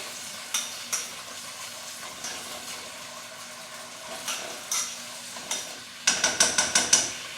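A spoon stirs a one-pot rice dish simmering in a pot, with steady scraping strokes against the pot over a low bubbling hiss, ending in a quick run of faster strokes, all close up.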